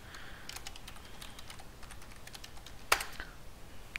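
Password being typed on a computer keyboard, a run of light key taps with one sharper keystroke near the end, close and moderately quiet.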